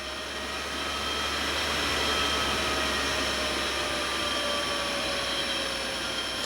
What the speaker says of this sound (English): This is a Balder motor. It's running really smoothly.